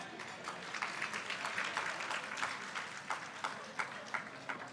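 A conference audience claps in a light, scattered round of applause at moderate distance, individual hand claps audible throughout with a few louder peaks.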